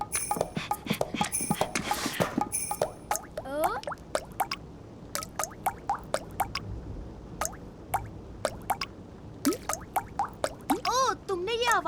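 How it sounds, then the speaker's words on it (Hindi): Water drips from a leaking roof into a bucket in a cartoon scene, a series of sharp, ringing drops falling one after another at an uneven rhythm, with a voice talking at the start. "बूंदों की क्या धुन है?"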